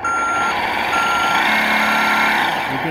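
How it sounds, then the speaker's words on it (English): An Imex HG-P408 Humvee RC truck gives off a steady electronic reversing beep, a loud continuous synthetic tone with a slight wavering pitch and a faint low hum beneath, heard alone throughout. "you get the reversing sound, and the reversing lights come on"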